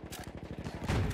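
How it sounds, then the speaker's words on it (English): Rapid gunfire in Battlefield 1, a dense run of sharp, evenly spaced shots in a steady rhythm, building to a louder, thicker burst at the end. "So he's trying to shoot people through the wall."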